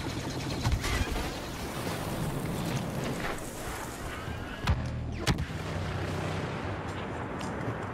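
A Star Wars Battlefront explosion blasts through game audio, with sharp booming hits near the middle over a constant rumbling bed of battle noise.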